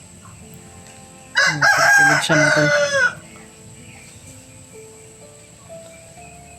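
A rooster crows loudly nearby in one long call, followed by a brief spoken remark and quiet background with faint distant clucking.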